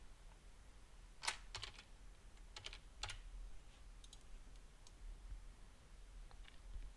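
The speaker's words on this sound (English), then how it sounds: "then we type the name of the person" Computer keyboard typing during admin software data entry, a few short bursts of quiet clicking keystrokes with gaps between, close but faint over a low hum.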